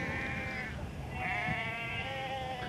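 Sheep bleat on a Northumberland hill farm, two or three drawn-out wavering calls close by, overlapping against faint outdoor background.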